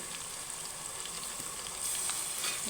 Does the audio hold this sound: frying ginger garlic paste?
yes